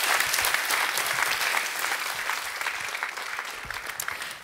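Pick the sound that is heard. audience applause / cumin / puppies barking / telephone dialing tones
audience applause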